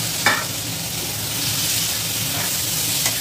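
Marinated minced chicken frying in a hot pan, a continuous bright sizzle and hiss with a few stirring scrapes, close and steady throughout without any voices.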